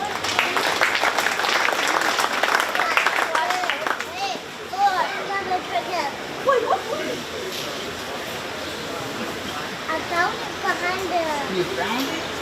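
Applause from the crowd at a 4-H cattle show at a county fair, loud and steady for about four seconds and then thinning into scattered claps, with children's voices and general chatter continuing underneath.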